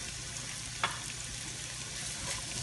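Carrots and celery sizzle steadily in a hot pan, a constant crackling hiss with one small clatter near the start.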